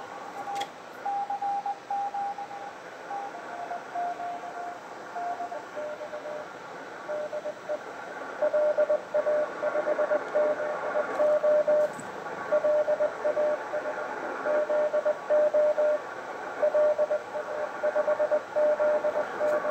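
Amateur radio Morse code calling CQ on the 20 m band, a steady tone keying out dots and dashes in repeated groups over a constant hiss of receiver noise.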